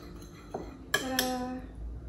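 A metal utensil clinks against a small dish while sesame oil is mixed into a gyoza dipping sauce, giving two or three bright ringing taps with a short resonant tail in a quiet kitchen.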